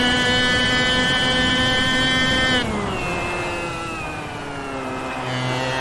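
A go-kart engine in the Automobilista racing game revs high and buzzy, then drops sharply in pitch as the throttle lifts and holds a lower drone, loud and close with no talk.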